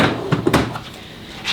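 A drawer slides open on a Milwaukee Packout rolling tool box that stores automotive tools. The clunk and slide are close and fairly loud, with a brief rattle before it settles.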